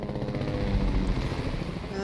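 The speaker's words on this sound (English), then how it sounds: "Matthew's bringing the helicopter" A helicopter in the video game Fortnite drones with a low, throbbing rotor chop and a steady engine hum, fairly loud and continuous.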